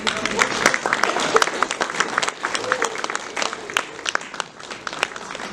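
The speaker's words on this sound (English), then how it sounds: "give them a big round of applause, folks" Wedding guests clap for a newly married couple right after the vows, a dense, lively round of applause with scattered voices and cheers mixed in.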